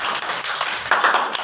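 Children clap for their classmates in a classroom, a dense, steady patter of many small hands lasting a moment, fairly close and loud with no talk over it.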